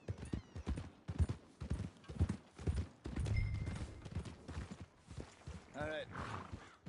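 Horse hooves clip-clop in a steady rhythm in the Red Dead Redemption video game, close and moderately loud, with game music and a brief whinny-like sound near the end.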